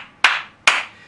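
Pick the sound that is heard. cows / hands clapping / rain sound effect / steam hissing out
hands clapping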